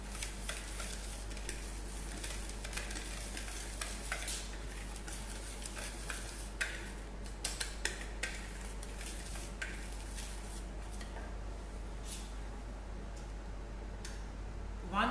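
Dry cookie dough ingredients get mixed in a bowl, giving a steady run of light ticking and tapping against the bowl, moderately close and continuous, with little else heard.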